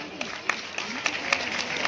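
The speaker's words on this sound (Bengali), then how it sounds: "তাই প্রথমেই ওর জন্য একটি হাততালি হোক।" Audience applause in a hall at a school alumni conference for Deshbandhu Vidyapeeth, a steady wash of clapping with a few sharper claps standing out and voices mixed in underneath.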